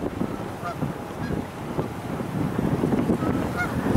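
Geese honking along a shoreline, several short nasal calls scattered over a steady outdoor wash of wind and water, moderately close and without talk.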